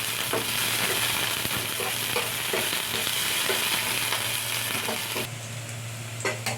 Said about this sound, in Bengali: পেঁয়াজটা আমার ভাজা ভাজা হয়ে এসছে